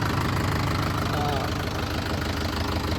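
A tractor engine idles nearby with a continuous low, steady rumble while people talk over it.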